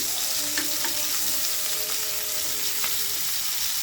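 Shrimp sizzling steadily in hot oil for a prawn mash, a continuous close crackle with a few faint pops and no talking.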